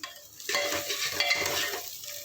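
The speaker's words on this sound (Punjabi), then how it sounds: "ਪਿਆਜ਼ ਆਪਣੇ ਭੁੱਜ ਗਏ" Onions fry in a pan with a steady close sizzle, while a spoon stirs them in scraping bursts, loud and continuous with no voices.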